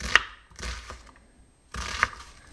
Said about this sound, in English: I'm going to start by cutting up some onion